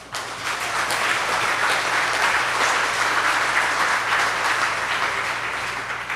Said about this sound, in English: Please give them a hand clap